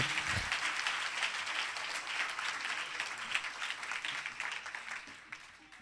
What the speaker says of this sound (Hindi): ताली बजाएं ऐसे जिंदा खुदावन यीशु मसीह के लिए।